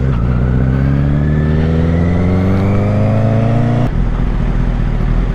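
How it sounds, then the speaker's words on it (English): A 2014 Honda CBR1000RR motorcycle fitted with an M4 slip-on exhaust revs loudly and up close, its engine note climbing steadily for several seconds before dropping back abruptly to a rough idle, with no talk over it. "The CBR has such a nice roaring sound."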